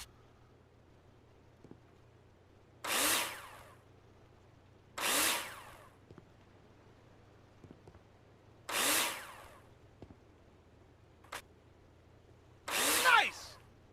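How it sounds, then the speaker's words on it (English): A power drill drives screws into plasterboard in the Builder Simulator video game, heard as four loud, short whirring bursts spaced a couple of seconds apart, with one brief click between them, over a quiet background hum. "Take your drill out and screw them in."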